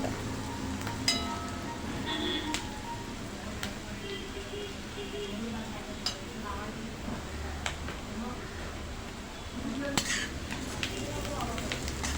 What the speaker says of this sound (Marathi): आणि आता आपण शेंगदाणे घालणार आहोत थोडासा लालसर करायचा आहे